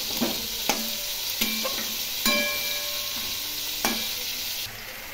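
Skate fish sautés in a pan with a soft steady sizzle, punctuated by several sharp spatula knocks and scrapes against the pan as it is stirred.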